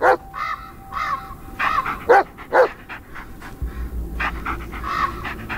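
Crows caw in the Blair Witch video game, a few harsh calls in an irregular sequence over a dog panting and sniffing close by.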